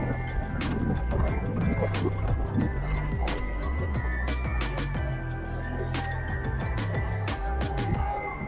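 A ZAR ZF-5 tender boat with a Suzuki 90 outboard motor slows from speed, the engine drone mixed with splashing water and hull slaps while someone talks over it.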